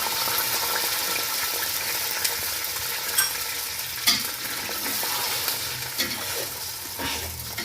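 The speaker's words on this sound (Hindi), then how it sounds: "बादाम और पिस्ता जो है वो रोस्ट हो चुका है। अब मैं इसमें डालूंगी चीनी।" Roasted almonds and pistachios sizzle in a pan as sugar goes in, with a steady frying hiss and occasional spatula scrapes and taps, close and continuous, with no talk.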